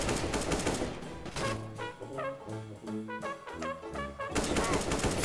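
Rapid gunfire in the video game CS:GO, dense bursts of automatic shots firing in quick repeated volleys, loud and close throughout.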